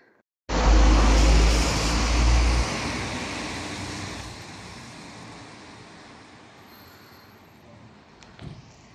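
Interior rumble of a city bus at night: a loud low engine surge at pulling away, easing into steady road and cabin noise that fades gradually, with a faint thump near the end.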